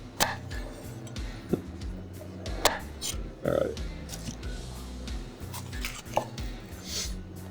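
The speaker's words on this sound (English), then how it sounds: "now we're dicing up the red pepper" A knife dices red pepper on a board, giving a few sparse, sharp chops spread over a steady tonal background hum.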